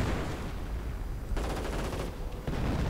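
Sniper and battle gunfire in a real-time strategy game, with sharp broadband reports breaking over a steady din of distant fire and explosions, loud and continuous with no voices.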